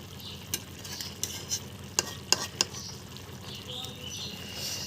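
Puti fish curry with vegetables simmers in a pan, a soft continuous bubbling sizzle broken by several sharp clicks and scrapes as a spoon stirs, close and fairly quiet.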